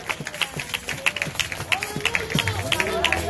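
A church congregation claps during a worship service, quick uneven hand claps building into steady applause, close and fairly loud, with a voice calling out over it.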